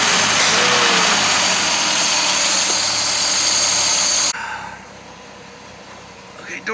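An Austin Healey 100/6 engine idles close by with a steady rumble that drops abruptly partway through, leaving a quieter background, and voices talk over the sound.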